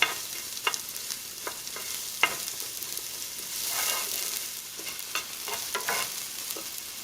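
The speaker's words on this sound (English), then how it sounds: "we only want to sear this here for about 30 seconds to a minute" Food sears in a hot pan with a steady, close sizzle, broken by a few sharp crackles and the scrape of stirring, and nobody talking.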